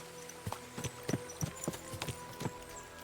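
Horse hooves clip-clop at a steady walking rhythm in the medieval video game Kingdom Come: Deliverance 2, the hoofbeats soft but distinct over a faint background hum.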